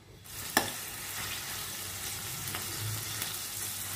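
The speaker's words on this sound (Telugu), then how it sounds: "ఇప్పుడు ఈ ఉప్పు చేప అంతా కూడా వేయించేసుకుందాం" Salted dried fish frying in hot oil over a medium flame for a tomato curry, a steady dense sizzle throughout with a sharp spatter at the start and faint stirring clinks.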